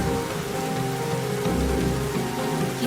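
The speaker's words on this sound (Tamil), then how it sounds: "இத்தனை மழையில நனைஞ்சிருக்கேன்." Heavy rain pours down steadily and loudly in a Tamil TV drama scene, a dense continuous hiss with a low rumble beneath and no voices.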